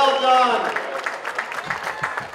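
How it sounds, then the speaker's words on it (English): Audience applause at a polo club awards ceremony, a dense patter of clapping that swells early and then carries on steadily, with voices mixed into the crowd. "All right, another round of applause."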